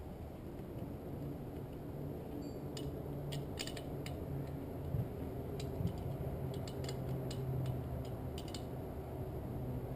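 A 10mm nut is tightened on a DRC Pro motorcycle chain breaker tool, giving sparse light metallic ratcheting clicks in short bursts over a steady hiss, with no talking.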